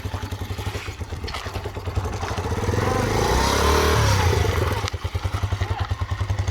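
A motorcycle pulls away in first gear as the clutch is slowly let out, its engine thumping steadily at idle, rising into a louder drawn-out rev, then dropping back to a pulsing idle.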